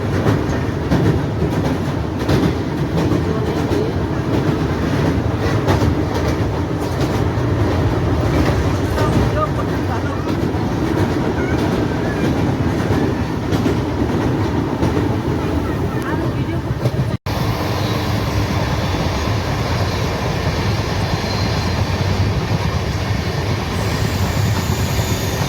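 The Chambal Express, train 20975, runs on rails as a loud, continuous rumble heard from inside a general-class coach, with rhythmic clatter throughout and some talk beneath it.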